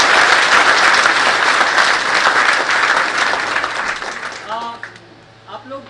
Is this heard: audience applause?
yes